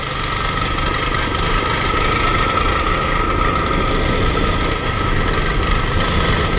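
A Royal Enfield Standard 350 BS6 running with a misfiring problem linked to a failing fuel pump, a loud, steady engine drone close by with no voices.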